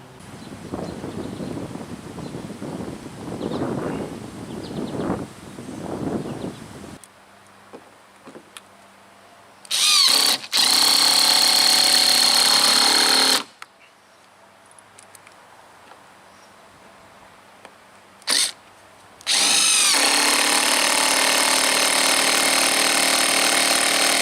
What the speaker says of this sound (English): You can put the wood screws in with a socket wrench or an impact driver